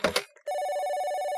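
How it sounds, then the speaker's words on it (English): A telephone bell rings in a house: a short, sharp double ring, a brief gap, then a steady, loud, trilling ring that keeps going to the end. "phone rang again."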